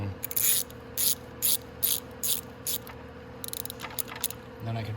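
Ratcheting on a 250cc X22R Max motorcycle as bolts are snugged down, a series of quick close clicking bursts with short pauses between, loud and alone with no talk.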